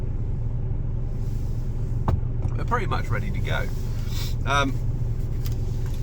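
A truck engine idling after warming up, a steady low rumble that runs the whole time while someone talks over it from close by.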